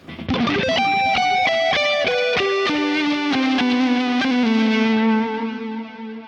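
An electric guitar picks a descending arpeggio, each note ringing into repeating echoes that blur together before fading out.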